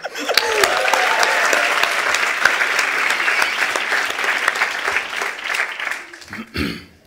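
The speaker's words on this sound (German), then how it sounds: "Applaus." A studio audience applauds a game show contestant awarded points, dense, loud clapping that holds for several seconds and then fades, with a few scattered voices near the end.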